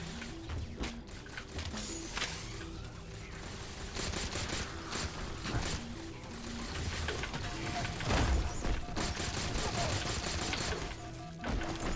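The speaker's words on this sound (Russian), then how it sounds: "Мне нужно сейчас их всех перестрелять и найти новое оружие." Gunfire in the video game Halo 4, with rapid bursts of shots and clattering weapon impacts mixed with background game sounds, dense and continuous, with a voice briefly audible underneath.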